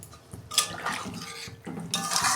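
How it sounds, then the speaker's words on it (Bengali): Water poured into a pot of pomfret curry with cauliflower and potato, a broad splashing wash that comes in two close bursts, near and steady, with no talk. "আমি জল দিচ্ছি"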